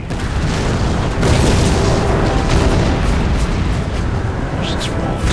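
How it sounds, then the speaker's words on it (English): Massed artillery in the Empire Total War strategy game fires in a dense, continuous barrage, loud booming blasts layered over a constant battlefield rumble for over five seconds. "These bastards are firing 24, not 12 guns."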